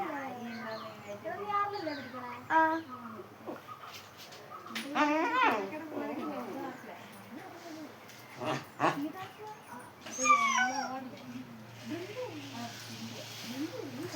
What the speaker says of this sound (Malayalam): ഒരു പട്ടി സാറോടെ ഉണ്ട്.